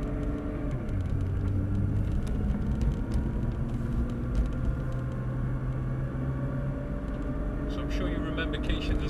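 A junior supercar pulls out onto a race track, its engine droning steadily and close, with rising tones as the driver changes up through the gears, while an instructor talks over the motor.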